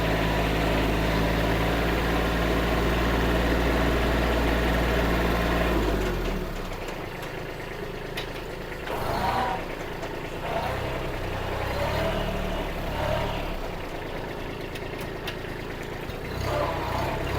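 A Kubota B2140 tractor engine runs steadily with a low, loud drone that drops to a quieter idle partway through, followed by intermittent clunks and knocks as gears are shifted, with no talking.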